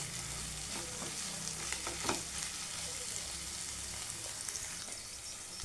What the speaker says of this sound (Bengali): এর উপর দেবো ধনে পাতা দিয়ে এটা কিছুক্ষণ নাড়তে হবে।